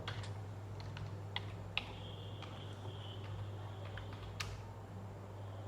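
Password keys tapped on a computer keyboard in a quiet office, scattered light clicks over a steady low hum, no voices.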